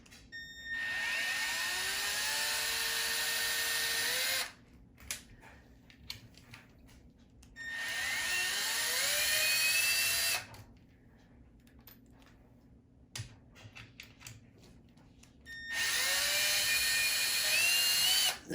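A power drill runs in three long whirring bursts as it backs tight screws out of a Rovan MaxT RC truck, its pitch sliding upward under load, with brief rattling handling noises between bursts.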